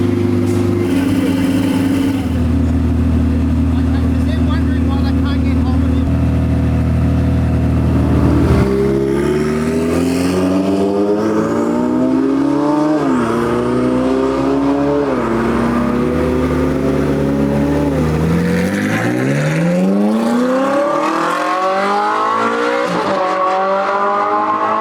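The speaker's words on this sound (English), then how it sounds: "So the cars are about to go out." Ferrari race cars head out onto the track, their loud engines holding steady drones at first and then revving up and down in rising sweeps as they pull away, with no talking.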